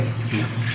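Milk pours steadily for under a second, a smooth continuous splash with a low hum beneath it.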